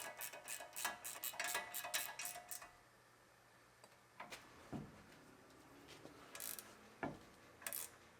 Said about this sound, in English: Tighten up the upper ball joint.